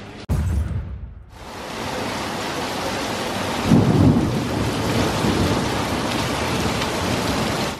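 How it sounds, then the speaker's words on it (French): Heavy rain pours steadily during a thunderstorm, with a deep rumble of thunder swelling around the middle and the downpour continuing loud and close to the end; no one speaks. "il pleut, il y a de l'orage"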